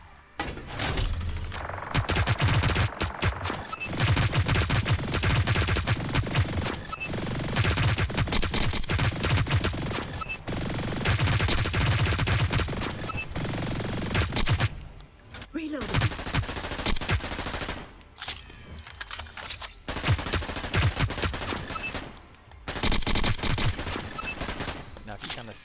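Sustained burst gunfire in Hyper Scape: loud, dense automatic fire that continues for long stretches, broken by a few short pauses, with faint game voices in the background.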